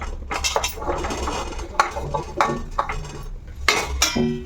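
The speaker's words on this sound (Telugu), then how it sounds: "ఇంక ఈ వెజిటేబుల్స్ అన్నీ వేసేస్తున్నాను" Chopped vegetables go into a cooking pot for vegetable khichdi with a series of clattering knocks of a spoon and metal pot, irregular and close, with faint rustling between hits.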